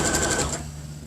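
A sewing machine runs a hem along the seam of a simple zippered canvas tote, its fast needle whir steady for about half a second before winding down to a low hum.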